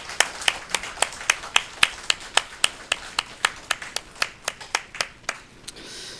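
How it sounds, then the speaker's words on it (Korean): In a Sunday morning church service, a congregation claps in a steady, even rhythm of about twenty crisp claps, close and distinct, with no talk. "우리 서로 격려하면서 박수하겠습니다."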